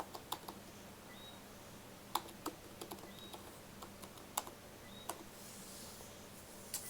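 Password typed on a computer keyboard, a sparse run of faint, close key clicks at irregular intervals over quiet room hiss.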